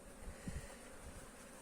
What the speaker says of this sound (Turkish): Güneş açtığında bizim burada arımız uçar.